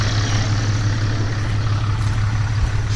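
A Cummins diesel race truck engine idles close by, a loud, steady low rumble with an even throb that carries on without a break and with no voices over it.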